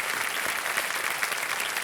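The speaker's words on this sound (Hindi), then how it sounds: "एक बार फिर तालियों के साथ हम आपका स्वागत करते" A studio audience on the KBC Season 14 game show applauds to welcome a contestant, with dense, steady clapping that stays loud and even throughout.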